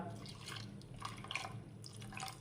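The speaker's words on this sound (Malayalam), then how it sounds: "അതെല്ലാം വേവാൻ ആവശ്യമായ വെള്ളം കൂടെ ഒന്ന് ചേർത്ത് കൊടുക്കാം" Water splashes and gurgles into a pot in uneven bursts, close by and fairly quiet.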